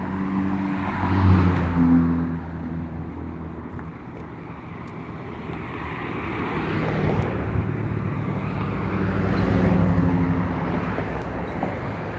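Cars pass along a suburban street in Brampton, engine and tyre noise swelling and fading as vehicles approach and recede, with wind buffeting the microphone.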